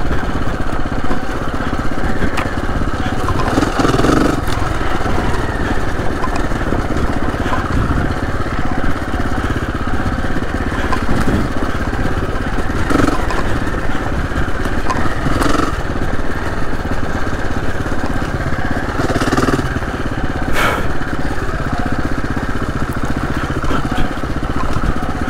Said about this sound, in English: I don't know if it's my engine, my exhaust that I keep hearing